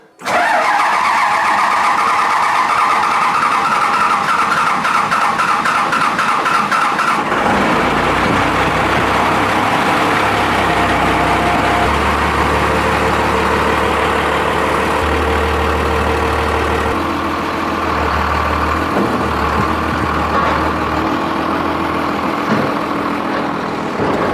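A long-bed pickup truck engine, not started for a while, cranks briefly, catches and roars to life, then settles into a steady, loud idle that runs on.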